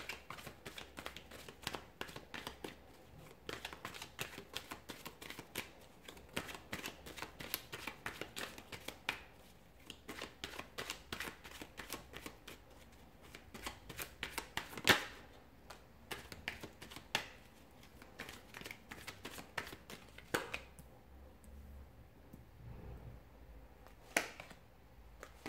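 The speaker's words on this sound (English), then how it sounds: "we'll give the cards a shuffle" Tarot cards being shuffled, a dense run of quick papery riffles and snaps that carries on steadily for most of the stretch, close and fairly quiet with no talking.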